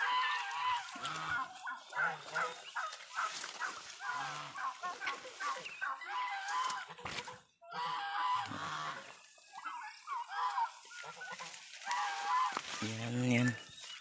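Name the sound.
guinea fowl calling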